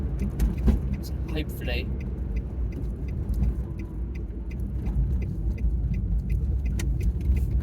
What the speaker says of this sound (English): Oh, this car's going the same direction I am.